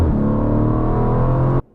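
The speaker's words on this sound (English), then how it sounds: "That V8 is absolutely incredible." A 2023 Aston Martin Vantage V8 engine roars loud and close with a deep, steady growl that holds for over a second and a half, then cuts off abruptly.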